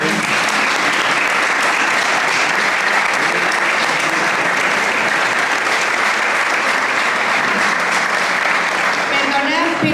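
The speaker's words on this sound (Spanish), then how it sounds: "os pido un aplauso" Steady applause from an audience at a book presentation in a cultural hall, a full, continuous roar of clapping from a packed room that stays loud and even for about ten seconds.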